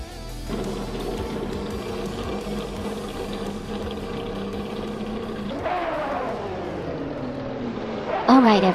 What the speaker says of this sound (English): Group C cars are lining up, and Amy's starting on pole with a classic 1984 Porsche 962 C short tail.